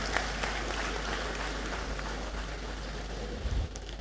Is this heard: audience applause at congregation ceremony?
yes